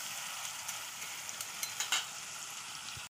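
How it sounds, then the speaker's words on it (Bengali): Carrots frying in a pan with oil and a little salt, a steady close sizzle that holds throughout with a few faint crackles. "গাজরটা প্রথমে দিয়ে ভালো করে ভেজে নেব"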